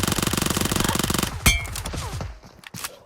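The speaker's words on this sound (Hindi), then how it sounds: "तो हम लोग को ये रिकॉल पे से आवाज़ आती है फायरिंग की।" Automatic gunfire rattles in rapid bursts during a battle royale fight on the Livik map, followed by a sharp metallic ping and scattered shots fading out.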